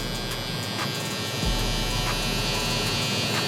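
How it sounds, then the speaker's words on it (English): An electric hair trimmer buzzes steadily and close while cutting a barber line up on stubble, a constant high whine with faint clicks, no voices. "That little small stubble room that we left, flip your trimmer on this side"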